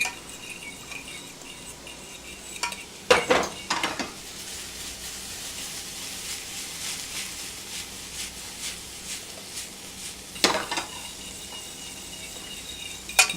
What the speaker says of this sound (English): Got my butter straight in there, and I'm just gonna stir